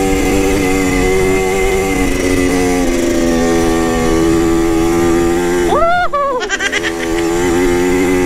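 A Yamaha DT 125 motorcycle engine runs loud and steady up close on a test ride, a constant buzzing drone that swells in a sharp rev near the end before settling back.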